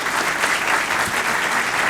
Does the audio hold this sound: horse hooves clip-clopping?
no